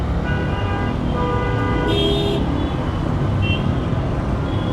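A Hero Xtreme 125R motorcycle pulls away in a jammed Bangladesh street, its engine lost in a steady roar of surrounding traffic, with car horns tooting briefly nearby.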